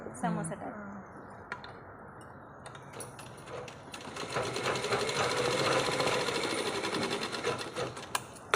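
Sewing machine stitching a shape belt, a quiet start with a few clicks, then a loud, steady, fast needle chatter that runs on close by under intermittent talk.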